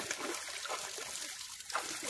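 Water trickles and dribbles steadily at a natural picnic spot near Cuttack, a soft close babble with small splashes and no voices.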